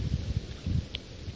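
Gusty wind buffets the microphone outdoors in low, irregular bursts of rumble, fairly close and steady in loudness, with no speech over it.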